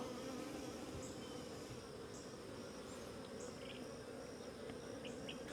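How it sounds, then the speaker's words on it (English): A large honeybee colony in a hive hums with a steady, dense, continuous buzz, close and even throughout with no voices. "That's a nice colony of bees right there."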